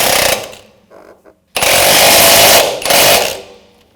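Loud rattling bursts of a power impact tool tightening the rear wheel bearing nut on a 2007-2013 BMW X5, a short burst, a brief pause, then a longer sustained hammering run and a final burst, close up.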